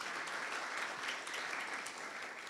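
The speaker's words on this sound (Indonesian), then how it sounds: "Berikan tepuk tangan buat Tuhan kita." Church congregation applauding during a Christmas service in Batam, Indonesia, a steady dense wash of clapping sustained evenly throughout, no voices over it.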